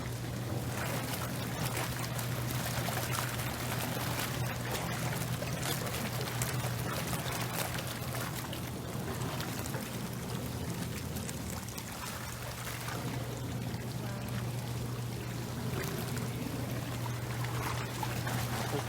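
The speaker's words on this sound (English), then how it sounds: "I think Chase just called it a sun shower." A sun shower falls with rain coming down while the sun shines, a steady, even hiss of drops pattering throughout over a constant low hum, with no break.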